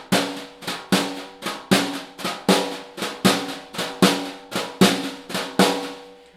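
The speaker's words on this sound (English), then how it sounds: "you're going to play flam left right flam right left," A snare drum plays a flam accent rudiment with alternating sticking, crisp doubled strokes in a steady even stream of triplet-like groupings, close and clear without talk.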